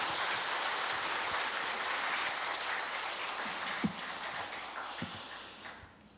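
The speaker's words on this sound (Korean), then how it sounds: "나오실 때 큰 박수로 환영해 주시기를 바라겠습니다." A church congregation at a Sunday afternoon service applauds to welcome two visiting pastors, a dense, steady wash of clapping that carries on and then fades toward the end, with a few louder thumps partway through.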